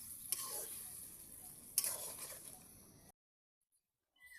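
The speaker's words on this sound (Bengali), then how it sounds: "লঙ্কা 4টে দিয়ে দিব, দিয়ে একটু লাড়বো আমি।" Four chillies stirred into a pickle frying in a pan: a soft hiss of oil with two brief scraping clinks of the spoon, close and faint, ending in a sudden cut to silence.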